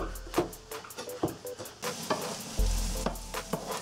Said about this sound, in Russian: Когда лук станет прозрачным, добавляем в него грибы и продолжаем все это жарить